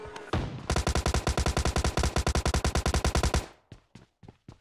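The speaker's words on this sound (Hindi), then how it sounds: "तभी सामने के तरफ से हॉल की तरफ से फायर आता है" Automatic gunfire in the mobile shooter PUBG Mobile Lite, a loud rapid burst of about twenty close shots followed by a few separate single shots as it trails off.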